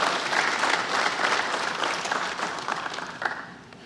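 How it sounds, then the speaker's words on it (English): An audience at a live launch event for a home improvement subsidy app gives the housing staff a round of applause, sustained, dense clapping that fills the room and slowly tapers toward the end. "all of us giving a round of applause to the hard-working staff of Central Housing"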